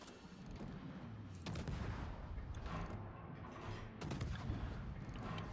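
Gunfire aimed at a rock in a naval combat video game: a dense, continuous rumble of booming shots and rapid bursts, with brief gaps and renewed volleys, fairly quiet overall and with no talking.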